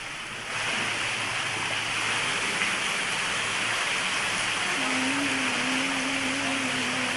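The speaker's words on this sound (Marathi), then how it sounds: "ढगफुटी सदृश पाऊस झाला, त्यामुळे शेतामध्ये माती खरवडून गेलेली आहे।" Heavy cloudburst-like rain pours down at Kanhur Mesai near Shirur, Pune, as a dense, unbroken hiss that starts abruptly and holds steady throughout, with a faint tonal hum appearing near the end and no voices.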